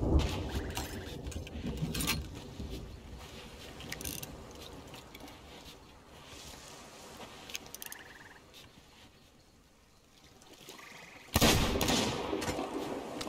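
In the video game Sea of Thieves, sharp gunshots ring out in scattered bursts at about 0, 2, 5 and 11 seconds, with quieter game ambience between them.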